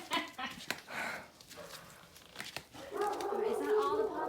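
Puppies from a litter of seven yip and bark in short bursts indoors, mixed with whimpers, while people talk over them throughout.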